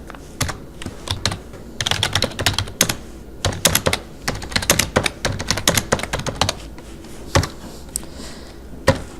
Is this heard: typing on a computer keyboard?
yes